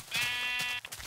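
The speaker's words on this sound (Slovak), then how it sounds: "Najprv si dobijem ovcu." A sheep in the video game Minecraft gives a single clear, close bleat lasting most of a second, followed by a few soft clicks.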